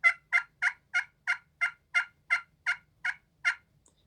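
A turkey call mimics a hen's fly-down cackle: eleven sharp, evenly spaced clucks rattle off in a steady rhythm, close and clear, with no talking over them.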